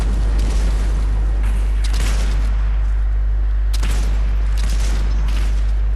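Repeated loud explosive rocket booms in Fortnite burst over a constant low rumble, several blasts in quick succession with no talking.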